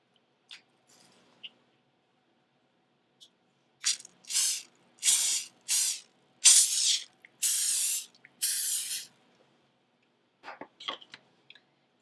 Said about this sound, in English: spray it with a non-stick spray. I'm using extra virgin olive oil spray